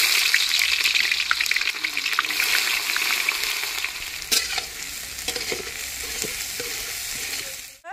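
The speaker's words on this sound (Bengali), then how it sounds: "তেল গরম হয়ে গেছে, এবার আমি একটু জিরে, গোটা জিরে ফোড়ন দিয়ে দেব" Whole cumin seeds sizzling in hot oil, a loud, dense, crackling hiss that runs continuously with scattered sharper pops and a stirring scrape, close up and without talk, tailing off at the end.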